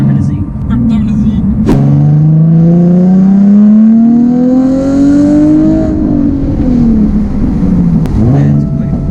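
A Nissan Z with a 3.7 V6 and a loud exhaust accelerates close by, its engine note climbing steadily in pitch for several seconds, then dropping back as it eases off, with a brief sharp crack near the start and another near the end.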